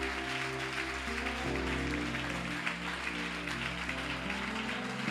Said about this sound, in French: Si tu as des mains, acclame le Seigneur.